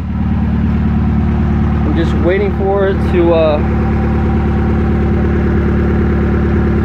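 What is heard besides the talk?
car engine idling after build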